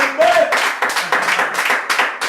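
A crowd claps and applauds together at a Christian gathering, a dense, loud and steady wash of hand claps with voices mixed in, running in short swells.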